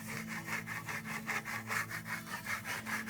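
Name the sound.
burnishing dry fresco plaster surface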